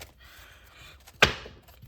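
A deck of tarot cards being shuffled up close: a soft, low papery rustle runs for about a second, then a single sharp, crisp snap of the cards rings out and quickly fades, with no voices.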